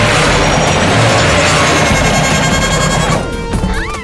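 A cartoon tractor crashes and breaks down: a dense, loud clatter of smashing metal and mechanical cacophony that cuts off near the end into scattered rattles and whistling tones.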